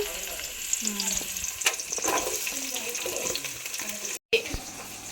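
Onions sizzling in a pan for chicken curry in a home kitchen, a steady frying hiss with occasional stirring scrapes and light clatter, briefly cut off near the end.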